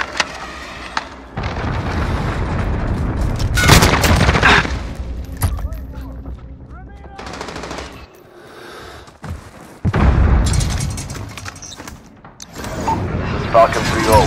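Explosions and gunfire from a cruise missile strike in the game Call of Duty: Modern Warfare, a Grazna Raid battle, with loud booming blasts and bursts of shots in waves, under game radio voices.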